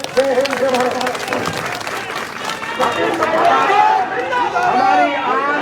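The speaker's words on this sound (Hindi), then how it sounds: "आप सबसे निवेदन करता हूँ कि जोरदार ताली होकर हमारे मुख्यमंत्री का स्वागत करें" A crowd at a Congress rally in Rajasthan gives loud applause welcoming the chief minister, clapping mixed with cheering voices and chanting that rise and fall over several seconds, with nearby speech and crowd babble throughout.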